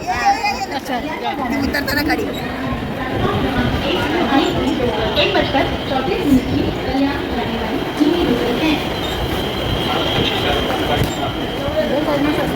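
Low rumble of a train at a station on the Mumbra–Kalyan line during Navratri, under a crowd of people talking and calling out nearby, with a steady mechanical drone throughout.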